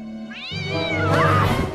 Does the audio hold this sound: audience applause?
no